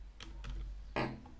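A few quick keystrokes on a computer keyboard while admin credentials are typed into a Moodle setup page on Windows 11, close and fairly quiet, with a louder clack near the end and no talking.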